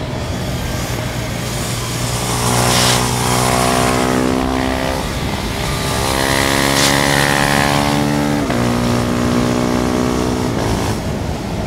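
A KTM Duke 390 motorcycle on Dunlop Sportsmart TT tyres riding back and forth, its single-cylinder engine loud and close, revving up and down through rising and falling pitch sweeps, with a brief dip before climbing again.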